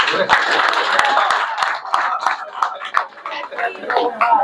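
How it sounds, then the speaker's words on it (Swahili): Crowd clapping at a Muslim council peace gathering in Mwanza, Tanzania, steady and fairly loud, with sharp individual claps scattered through a dense wash of hands. "Pigeni makofi jamani."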